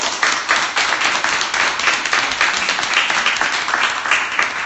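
An audience in Korea applauding together: dense, sustained clapping from many hands, steady and fairly loud across the whole stretch.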